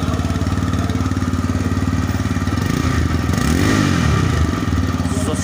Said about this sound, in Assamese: বাইকটোৰ সাউন্ডটো এবাৰ শুনাই দিব স্টাৰ্ট কৰি